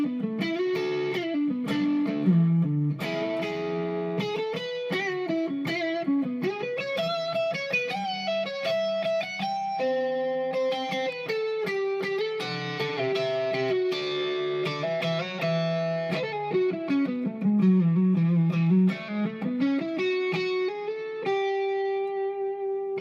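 Distorted electric guitar plays single picked notes in a flowing melodic line, moving smoothly through chord shapes at a steady pace, with no talking.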